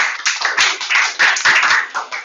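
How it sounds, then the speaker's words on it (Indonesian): An audience clapping in a quick, uneven burst of hand claps for about two seconds, fairly loud and close, with a few claps standing out from the crowd. "tepuk tangan saya dong buat kita semua"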